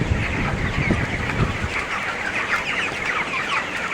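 Chickens on a poultry farm cluck continuously in a close, busy chorus over a steady background hum.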